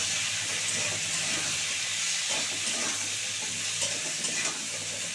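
Pumpkin and prawns fry with turmeric in a pan, giving a steady, close hiss of sizzling oil that holds level throughout with faint stirring scrapes underneath and no voices.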